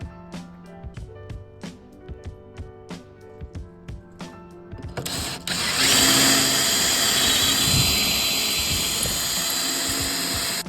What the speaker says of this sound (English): All right, so I finally got these holes drilled.